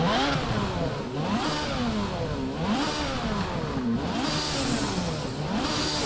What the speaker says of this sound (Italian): Perché sento la turbina sul cofano anteriore?